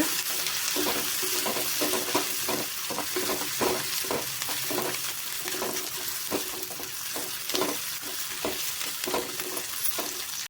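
Onions and green chillies frying in a pan, a constant soft sizzle under steady rhythmic scraping strokes of a spoon stirring them.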